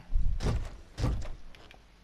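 Two heavy thuds strike a wooden front door being forced in Red Dead Redemption 2, each a close, dull bang about half a second apart, followed by fainter rattling.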